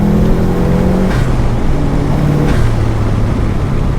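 Subaru Impreza P1 engine off throttle with anti-lag, a loud droning exhaust heard from inside the car, steady and close with a couple of brief pops or blips as the pitch steps down.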